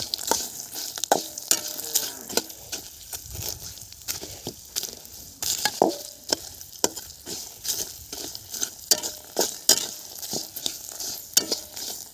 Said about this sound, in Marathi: भाजला मस्तपैकी मसाला तेलात आता